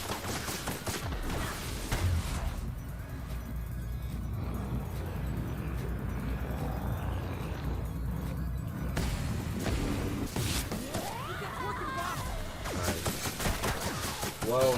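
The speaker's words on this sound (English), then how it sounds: "Still with the grenade launcher." Grenade launcher firing during a video game shootout, with booming shots and crashing blasts scattered through a continuous mix of game noise and someone talking over it.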